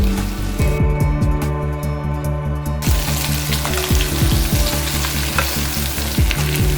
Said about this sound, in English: I'm gonna just saute it.